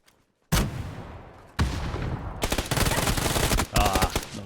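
Close, loud gunfire in the PUBG video game, with a single shot followed by repeated bursts of automatic fire separated by brief gaps.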